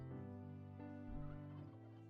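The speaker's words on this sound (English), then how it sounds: "Turkey." A turkey in a modded Minecraft world gobbles in one steady, rich burst lasting about two seconds, heard alone with no talk over it.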